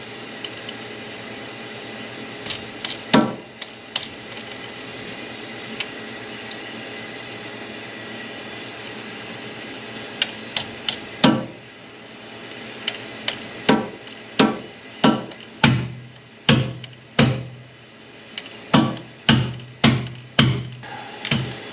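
A valve spring compressor tool works on an engine head, giving sharp metallic clacks and pneumatic bursts that start sparse and become a quick, regular series near the end over a low steady hum.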